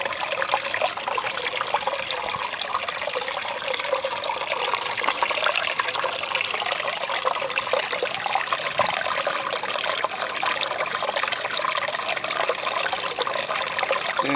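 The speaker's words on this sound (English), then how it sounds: "I'm gonna let you listen to the waters" Water trickles and gurgles steadily outdoors, a continuous close-up babbling flow with no voices, even in volume throughout.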